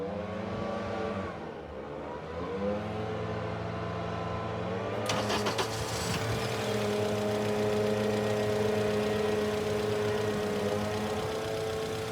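A car engine is started and left running, with a steady mid-pitched hum that turns into a fuller, broader engine drone partway through and then holds evenly to the end.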